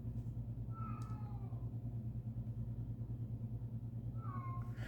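A house cat meows twice, faint and distant, once early and once near the end, over a steady low mechanical hum and rumble.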